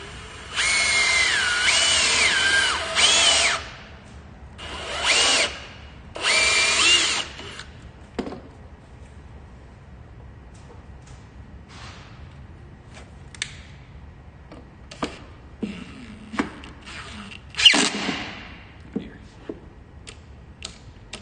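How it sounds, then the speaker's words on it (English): A power tool whirs and ratchets in loud bursts lasting a couple of seconds each while building a 3000W 24V PowMr solar power system, followed by quieter intermittent clicks, taps and handling noises. "I feel like that ratcheting is probably busting you guys' ears"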